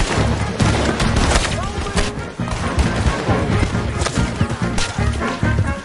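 Rapid gunfire in the Red Dead Redemption 2 video game, a dense fusillade of close, loud shots and crashes that continues throughout.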